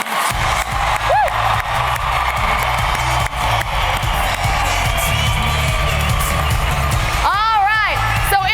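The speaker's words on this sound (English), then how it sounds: "Graduates, you have done a fabulous job. Give yourselves a round of applause." Graduates at a 2016 graduation ceremony cheer and whoop as a large crowd, a steady loud roar of voices and clapping with whistle-like shouts rising near the end.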